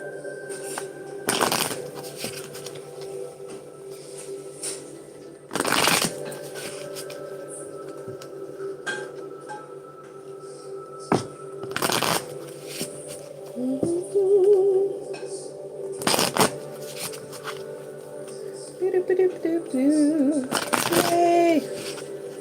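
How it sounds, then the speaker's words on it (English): Tarot cards are shuffled by hand in a series of sharp riffle bursts repeated several times, close and crisp, with softer handling and rustling between them and faint speech in the background. "I'm going to shuffle 8 times"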